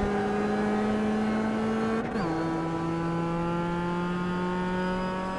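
An MX-5 Cup race car in iRacing held at full throttle, the engine roaring loud and steady with a brief dip and pitch drop partway through as it shifts, then carrying on.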